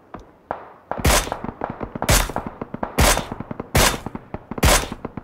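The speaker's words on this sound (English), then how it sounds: "There's a lot of shooting going on by Donald." A teammate's gunfire in a video game rings out as five heavy, evenly spaced shots, loud and close, with rapid lighter automatic fire rattling between them.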